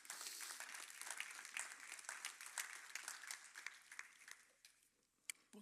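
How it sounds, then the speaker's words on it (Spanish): A church congregation at a Spanish-language sermon claps in a dense, sustained round of applause that stays fairly faint and distant and tapers slightly toward the end. "dale un fuerte aplauso al Señor"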